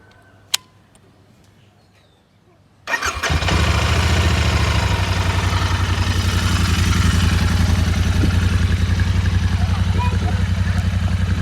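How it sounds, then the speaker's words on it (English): A Royal Enfield Interceptor 650 motorcycle fires up after a quiet pause with a sharp starter burst, then settles into a loud, steady, close-up thumping idle from its exhaust. "Let's quickly start the bike and listen to the exhaust."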